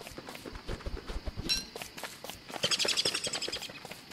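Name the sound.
birds chirping in video game Don't Starve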